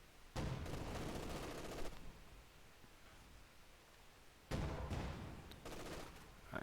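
MG42 light machine gun fire in a World War II strategy video game, two long bursts of rapid gunfire separated by a quieter stretch, fairly faint in the mix, with no voices heard.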